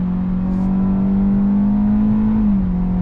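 A 2021 Hyundai Elantra's engine strains at full throttle, a loud steady drone that climbs gradually in pitch, then dips briefly as a simulated shift arrives near the end, with no voices over it.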